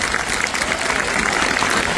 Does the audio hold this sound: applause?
yes